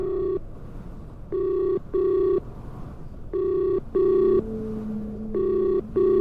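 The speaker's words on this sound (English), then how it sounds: "It's ringing." A telephone ring tone repeats in short, evenly pulsed double bursts, loud and electronic, with a steady lower tone joining partway through as the call line rings.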